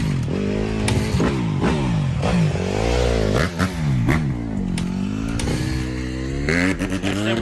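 A motorbike engine runs close by and loud, revving steadily with rising and falling pitch sweeps throughout, without pause.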